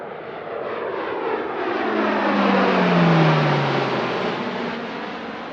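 A French Navy E-2C Hawkeye turboprop at an air show passes with a loud, steady engine roar that swells and fades, with a propeller drone falling in pitch as it goes by.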